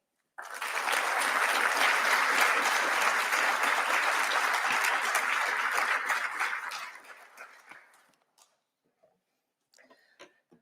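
Audience applause welcoming Senator Penny Wong to the floor at a speaking event: a dense burst of clapping starts abruptly, holds steady for about six seconds, then tapers off into a few scattered claps.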